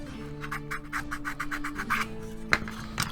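Sandpaper rubs along the wooden false keel and frames of a Hermione La Fayette ship model in steady back-and-forth raspy strokes, fairly quiet and close, with one sharper scrape near the end.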